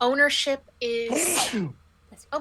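A single sharp sneeze bursts out in the middle of speech at a casual tabletop game session, with voices talking just before and after it.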